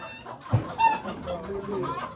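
Small-breed chickens cluck nearby in short, uneven bursts at a poultry auction in Ankara, with a brief higher squawk partway through and faint background murmur.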